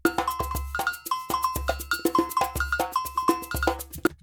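A drum loop in Cubase 7, imported without sample rate conversion, plays back at the wrong pitch and speed. Bright cowbell-like hits and low thumps repeat in a steady, slightly off rhythm, loud and alone.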